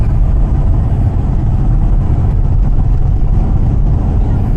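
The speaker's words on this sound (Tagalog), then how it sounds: "Pakinggan mo lang yung makina." A car engine on a zigzag mountain road hums with a loud, continuous low rumble, steady and close, with no voices heard.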